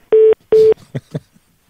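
Two long steady electronic tones of a telephone being dialed sound loud and close, followed by a few short softer beeps and clicks on the line.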